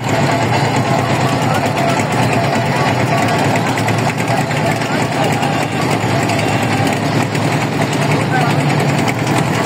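A trawler boat engine drones loudly and steadily at a river boat race in Faridpur, a constant close vibrating hum with people talking over it.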